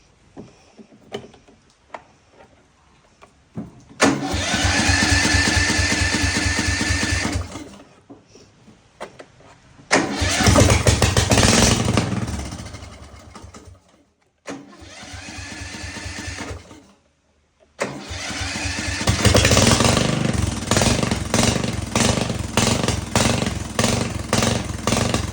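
A repowered Cub Cadet lawn tractor engine without an exhaust runs loud and close in several long bursts of rapid, rattling firing, stopping and starting again between runs.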